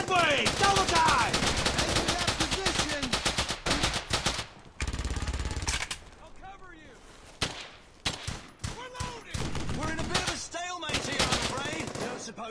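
Sustained automatic gunfire from squad suppressing fire in the WWII shooter Brothers in Arms: Hell's Highway, dense rapid bursts up front, then broken volleys and single shots with shouted voices in between.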